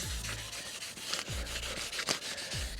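A freshly polished car bumper is wet-sanded with 2000-grit abrasive during a smart repair, giving a soft, continuous rubbing hiss with a few faint bumps, close by and fairly quiet.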